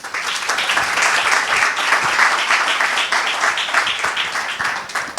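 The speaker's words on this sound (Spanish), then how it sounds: "por favor un aplauso para Alex" An audience at a talk on artificial intelligence in the workplace gives a speaker a loud, dense round of applause, sustained clapping from many people that fills the room without a break.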